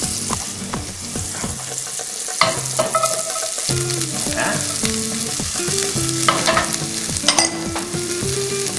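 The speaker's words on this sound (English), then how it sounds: "And we're going to put a little bit of green onion in there." Green onion and cauliflower rice fry in melted butter, a loud, close, continuous sizzle over clanks and scrapes of a utensil stirring against the pan, with no talking.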